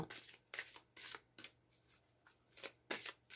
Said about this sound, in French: Et on va se tirer une carte de réponse